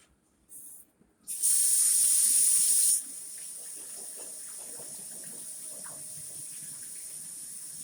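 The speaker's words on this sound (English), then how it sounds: "So let me rinse this off." Tap water rinsing jalapeno peppers at a kitchen sink: a short burst of faucet spray, then a loud steady gush for about two seconds that settles into a quieter continuous stream.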